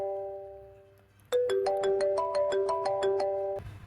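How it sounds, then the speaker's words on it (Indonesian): A phone ringtone in a Roblox game plays a bright, rapid repeating melody of electronic tones after a softer sustained tone, loud and clear with no talk. "Oh, ada telepon lagi."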